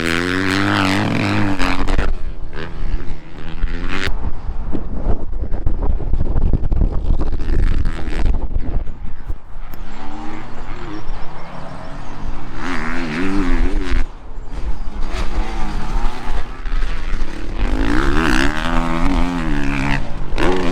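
Motocross bikes ride laps on a dirt training track, engines revving and whining continuously as they pass, loud and close with heavy wind buffeting on the microphone throughout.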